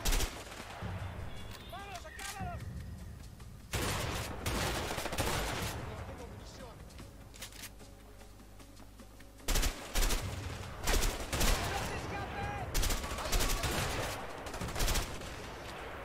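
Gunfight in the A Way Out video game in a jungle setting, with repeated loud shots and bursts of fire spread across the scene, separated by shouted voices and noisy lulls.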